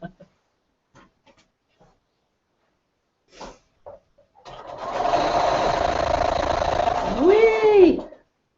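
After a few soft knocks and handling sounds, a sewing machine runs fast and loud for about three seconds while machine quilting, ending with a rising whine, a brief exclamation, and an abrupt stop.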